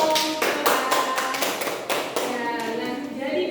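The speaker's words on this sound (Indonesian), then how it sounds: "Beri tepuk dong" A classroom of children clapping together for a classmate, a run of rapid, fairly close claps in short bursts that rise and fall, with a few faint young voices mixed in.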